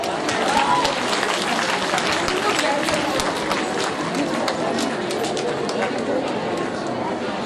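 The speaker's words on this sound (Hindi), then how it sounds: "तालियां बजाइए बच्चों।" Children at a school annual function give loud, sustained applause, a dense wash of many hands clapping with crowd chatter mixed in for the whole stretch.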